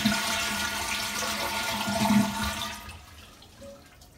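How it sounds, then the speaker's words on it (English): An old standard toilet is flushed with its lever held down and the water supply shut off, so a loud rush of draining water runs for a few seconds, then fades to a faint trickle. "From here, flush and hold."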